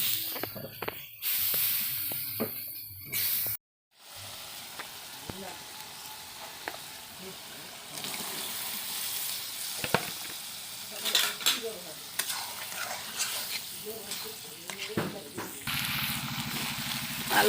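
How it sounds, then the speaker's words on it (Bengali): Potatoes sauté in a pan with a steady hissing sizzle and intermittent stirring scrapes, a short pause early on and slightly louder frying toward the end. "আলুটা কষিয়ে নিয়েছি"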